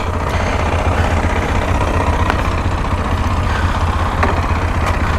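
A Kawasaki KLX 230 engine idles close by with a steady, low, even rumble that holds throughout, broken only by a few faint clicks.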